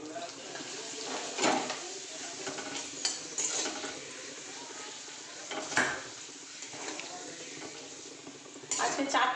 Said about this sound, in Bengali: পাঁপড় ভাজছি